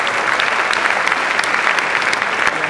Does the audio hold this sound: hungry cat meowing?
no